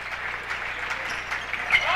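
A crowd at a CSJ versus Albany Pharmacy men's college basketball game fills a gym with a steady, loud wash of murmuring voices, scattered cheers and a sharp spike near the end.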